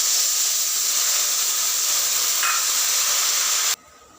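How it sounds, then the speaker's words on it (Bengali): Tamarind water hitting a hot pan of crab curry cooked with oil, green chillies and sour vegetables, a steady loud sizzle and hiss that holds evenly and then cuts off abruptly near the end. "এবার তেঁতুল জলটা দিয়ে দিলাম"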